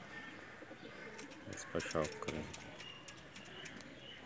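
A pigeon gives a brief low cooing near the middle, under quiet speech and soft background noise.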